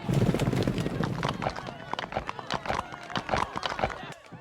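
Cartoon horse galloping with quick, uneven clip-clopping hooves and a whinny, busy and close, mixed with voices talking over it.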